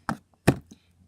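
Brown butter slime squished by hand gives a few sharp, wet clicky pops, two stronger snaps about half a second apart followed by a softer one, close and alone with no talk.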